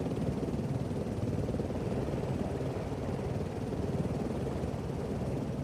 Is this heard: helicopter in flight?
yes